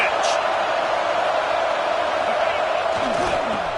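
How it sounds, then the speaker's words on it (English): Football stadium crowd roaring during a third-down play in the red zone, a dense, loud and continuous wall of cheering that runs throughout, with a commentator talking over it. "this crowd is at fever pitch"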